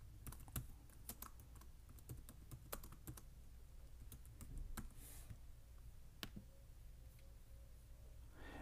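Quick, light keystrokes tap out a short folder name on a computer keyboard, irregular clicks in bursts and pauses, close but faint against a quiet room hum.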